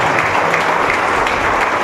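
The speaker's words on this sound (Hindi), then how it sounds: "मुझे जोरदार ताली बजा के परमेश्वर की महिमा करो।" A church congregation at a Hindi prayer and testimony meeting claps loudly and steadily, a dense continuous burst of applause with no talk over it.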